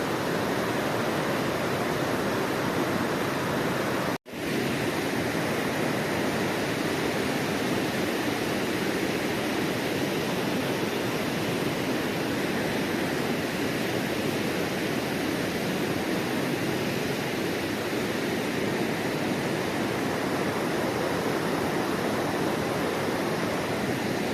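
Broad, steady roar of a fast, milky glacial stream rushing nearby on the Pindari Glacier trek, unbroken except for a brief dropout, with no one speaking.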